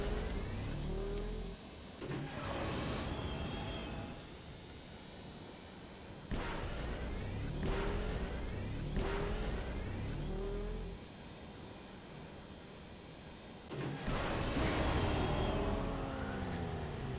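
Swoop bike engine from Star Wars: Knights of the Old Republic revving in repeated rising bursts, each climb cut off by a gear shift and starting again, steady and loud with no talking.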